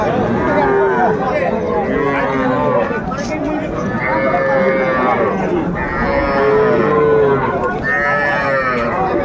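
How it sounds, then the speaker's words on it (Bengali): Cattle, including Sahiwal and local bull calves, moo repeatedly among a noisy crowd at Ambari cattle market in Dinajpur, with several overlapping calls and people talking throughout. "ষাঁড় বাচ্চা।"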